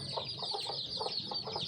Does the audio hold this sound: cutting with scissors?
no